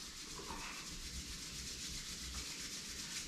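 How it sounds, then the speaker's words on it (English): Two palms rub briskly together during a yoga session, a close, steady dry swishing friction that carries on without a break and without any talking. "Rub your palms"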